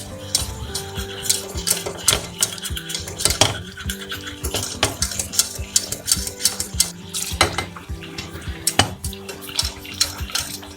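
Flour being stirred into melted butter in a pan for a cauliflower gratin, with steady scraping and clinking of a utensil against the pan throughout, close and busy, no talking.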